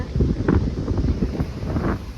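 Sea wind on Daman beach at night buffets the microphone in a steady low rumble, loud and close, with people's voices faintly mixed in.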